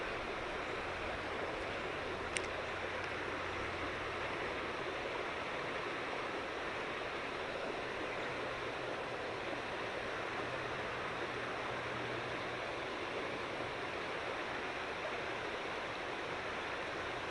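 A river running over rocks at a fishing spot, water not particularly high or fast, giving a steady even rushing hiss that stays constant throughout with no voices.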